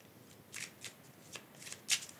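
A deck of cards is shuffled during a pick-a-pile card reading: a handful of short, crisp papery bursts close to the mic, quiet overall with one sharper flick near the end, and no talking.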